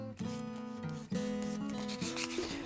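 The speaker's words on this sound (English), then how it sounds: "I'll follow up with some sandpaper to get those scratches out." Sandpaper rubbed back and forth across a guitar nut blank, several rhythmic rasping strokes close up, steady and fairly loud with no talking.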